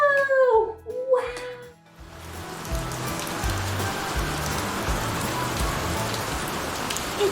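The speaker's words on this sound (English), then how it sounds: "It's raining, it's pouring" After a brief high-pitched voice, heavy rain starts and pours steadily, a dense close hiss with drops drumming on a surface.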